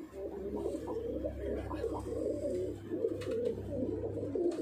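Pigeons coo steadily in a loft in Kolkata, overlapping low throaty calls from several birds close by, continuous with faint background noise.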